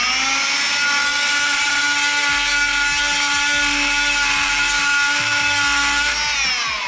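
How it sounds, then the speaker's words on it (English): Oscillating multi-tool breaking up very hard plaster during a lighting rewire, a loud, steady high-pitched buzzing whine with sharp harmonic tones and a slight pitch drop at the end. "I'm going to have a go with the multi-tool, just to kind of break it up a bit easier."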